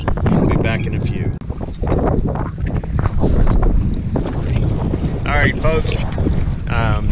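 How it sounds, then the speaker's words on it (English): Wind buffeting a moving boat powered by a Mercury 250 Pro XS four-stroke outboard, a loud, rough, continuous rush close to the microphone, with someone talking over it. "we've got some wind coming at us"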